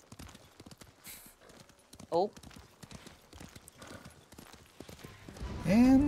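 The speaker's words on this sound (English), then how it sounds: "That's a bay horse." A bay horse's hooves clip-clop in steady, close rhythmic beats in the video game Ghost of Tsushima, with a short whinny partway through and a louder neigh near the end, while a person speaks briefly.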